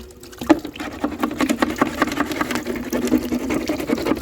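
Water runs and splashes over a bottle as glue is washed off it, a continuous gurgling pour with irregular spatters, close and moderately loud with no talk.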